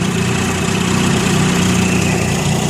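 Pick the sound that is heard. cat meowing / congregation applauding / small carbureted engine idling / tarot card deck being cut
small carbureted engine idling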